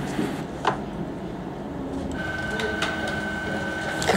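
An office printer runs through a print job with a steady mechanical hum and a sustained whirring tone in the second half, moderately close in an indoor workplace, with faint voices in the room.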